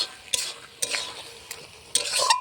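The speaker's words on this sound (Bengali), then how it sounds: "এরকম নাড়াতে হবে নাড়িয়ে নাড়িয়ে চিনিটাকে একদম মাখিয়ে" Sugar being stirred into olive pickle in a pan, a utensil scraping in several short bursts against a steady soft sizzle, close and fairly quiet with no voices.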